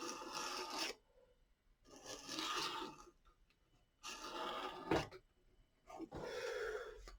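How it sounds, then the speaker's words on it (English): A palette knife scrapes oil paint off a canvas during knife painting, giving several short rasping strokes of a second or so each with quiet gaps between them, close and fairly soft. "let's just scrape some of that off"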